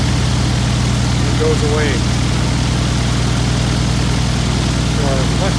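Steady droning run of a UL520iS engine on a Cozy Mk. IV aircraft, constant and close throughout, with a person talking over it.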